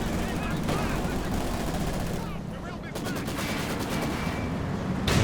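Tank cannon and other battle fire from the Company of Heroes 2 video game boom in a dense, noisy mix. Explosive bursts come in uneven rhythm, and there is no talk during the sound.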